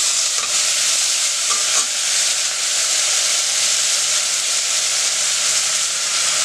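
Bacon with bell pepper and tomato sizzling in a pan for a Brazilian tripe and white bean dish, a loud steady frying hiss with faint stirring scrapes, no voices.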